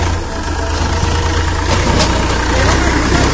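A tractor engine idles steadily with a low, continuous rumble on a rural village farm track, loud and close throughout, with faint voices in the background.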